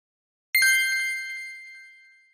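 A single bright notification-bell ding strikes once and rings out clearly, its tone slowly fading over about two seconds in silence.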